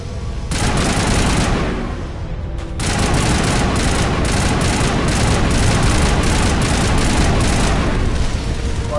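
Rapid sustained bursts of Spectre rifle fire ring out in the sci-fi shooter Mass Effect, loud and dense with a brief lull near the two-second mark before the firing resumes.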